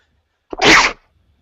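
A single sharp sneeze bursts out close to the microphone, short and loud, with near silence before and after.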